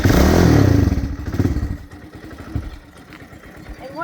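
A Kawasaki KLX110 dirt bike engine sputters to life with a loud initial burst, then settles into an uneven, pulsing idle with some clattering thumps, fairly close by.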